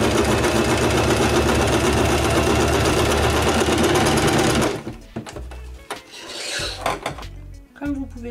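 Sewing machine stitching along the sides of a round scrapbook page, a steady loud whirring run for several seconds that stops abruptly, followed by quieter clicks and handling of paper.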